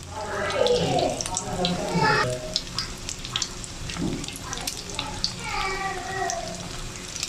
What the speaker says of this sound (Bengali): আমি এখন ভেজে নিচ্ছি এবার আমার তেল গরম হয়ে গেছে